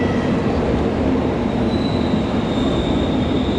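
A train rumbles steadily at Zurich Airport railway station, close and loud, with rolling wheel noise and a faint high squeal drifting in partway through.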